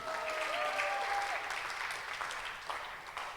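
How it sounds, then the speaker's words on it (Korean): A church congregation claps at a Korean worship service, a moderate wash of many hands that swells briefly and then slowly fades, with a faint tonal sweep near the start. "박수."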